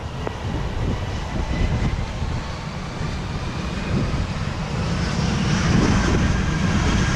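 A fixed-wing airliner takes off on runway 07 at Montego Bay airport in Jamaica in a 25-knot wind, its engines a loud, steady broadband roar that swells slightly toward the end, with no voices.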